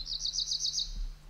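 A small songbird sings in a spring deciduous woodland, a quick run of about six bright, high, evenly spaced chirps over a low steady background hum.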